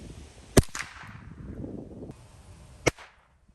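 An old Ruger 10/22 rifle fires .22 Federal Auto Match rounds outdoors, two sharp, loud cracks a couple of seconds apart, each trailing a short fading echo, with quiet between.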